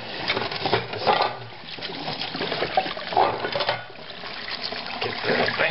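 Tap water running into a sink while dishes are washed, with frequent clinks and clatter of plates and cutlery over a steady splashing flow, close and fairly loud.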